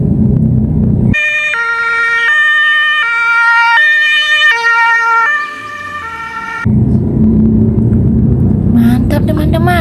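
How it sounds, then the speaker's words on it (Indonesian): Red toy ambulance siren wailing loudly in a steady electronic two-tone pattern for several seconds, with a low rumbling hum before and after and a brief voice near the end. "Wah, ternyata ini mobil ambulans."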